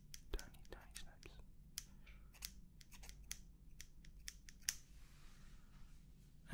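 Tiny, quick scissor snips during a haircut, close and crisp in a short irregular series, soft whispering in the background.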